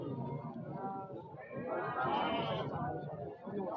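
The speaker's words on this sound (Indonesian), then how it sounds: "Spesialis domba-domba bunting teman-teman, seperti ini." Pregnant sheep bleat at a busy Indonesian livestock market in Temanggung, a wavering bleat rising midway through, mixed with murmuring voices and crowd noise.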